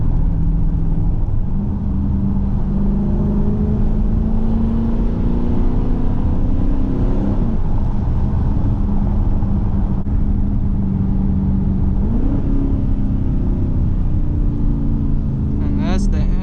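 A Dodge Scat Pack's engine drones loud and steady on back roads, rising in pitch as it revs through gears, with a brief higher whine near the end.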